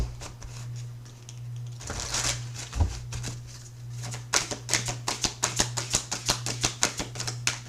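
Tarot cards being shuffled for a reading: soft riffling and rustling in the first half, then a run of crisp, evenly spaced card snaps and taps, close and fairly loud, with a steady low hum underneath.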